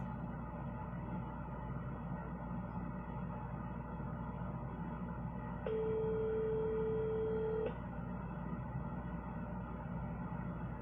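An outgoing phone call rings once: a single steady ringback tone of about two seconds, plain and unbroken, sits over a constant low background hum with no talking.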